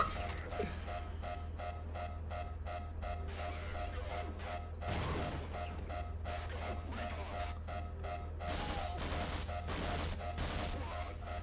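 Bursts of gunfire in the game Half-Life, a rapid fusillade of loud shots in clusters with sharp crashing impacts, the final salvo of four evenly spaced shots standing out clearly over a steady background hum.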